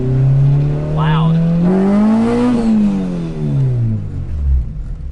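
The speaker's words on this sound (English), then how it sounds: "the exhaust for daily, for just like puttering around like this, it sounds about the" A car fitted with a Skunk2 MegaPower RR exhaust driven at low speed, the exhaust droning loudly and rising and falling in pitch as the engine revs and settles, with people talking inside the car.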